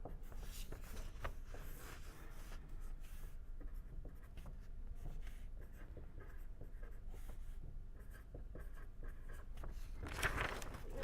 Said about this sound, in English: So I am writing down the values here.